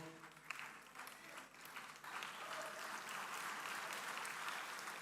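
An audience at an evening degree convocation applauds, a faint, distant wash of clapping that swells and holds steady across the hall.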